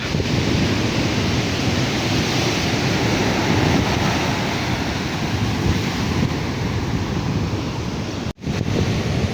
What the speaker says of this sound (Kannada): ನೀರಿನ ತೆರೆ ಎಲ್ಲ ಜಾಸ್ತಿ ಆಯ್ತು ಇವತ್ತು